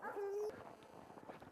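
A Yakutian Laika hunting dog gives a brief high whimper at the start, followed by quieter whining and faint movement, with a voice in the background.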